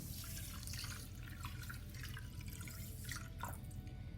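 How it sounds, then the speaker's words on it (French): Cold water poured into barley couscous semolina, a steady liquid trickle with dripping spatters running unbroken from start to finish, close by and fairly quiet, with no talking. "je vais rajouter de l'eau. Donc je rajoute de l'eau froide."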